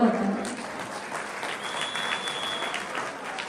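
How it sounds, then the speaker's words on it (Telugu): Sustained audience applause fills the hall at an NTR 101st birthday celebration in Sydney after a group dance performance, steady and dense throughout with a brief voice at the start. "బాగా గట్టి చప్పట్లు కూడా కొట్టాలి"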